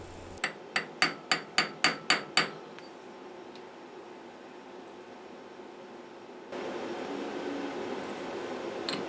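A part is tapped into place on a South Bend lathe with a piece of homemade aluminum stock: eight sharp metallic knocks in quick, even succession, followed by a faint hiss of room noise.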